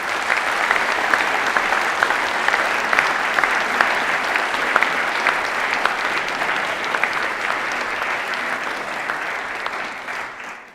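Sustained applause from a large audience at a formal University of Ljubljana ceremony honouring Faculty of Electrical Engineering staff and graduates, steady and dense throughout before tapering at the end.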